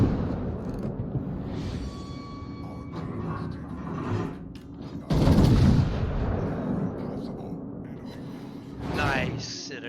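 Naval gun broadsides in the warship battle game World of Warships: scattered booming salvos with a heavy burst midway, among in-game mechanical noise and a voice talking.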